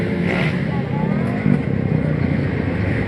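Motorcycle engine revving hard during a race, a loud, continuous roar with a brief surge midway, with a commentator talking over it throughout.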